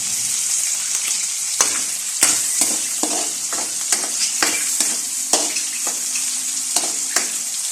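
Processed meat crisping in a frying pan for carbonara, a loud continuous sizzle with repeated sharp ticks and scrapes from stirring.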